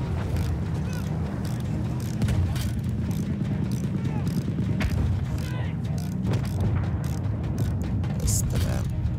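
A vehicle is repaired in the video game Battlefield 1, with continuous mechanical ratcheting and clanking running throughout over a low engine and battle rumble.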